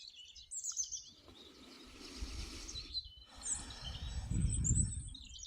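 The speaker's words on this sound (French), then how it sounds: "restant connecté au chant des oiseaux" Birds sing outdoors during a walk in nature, high chirps and trills coming and going at a moderate distance over low rustling and footstep-like thuds.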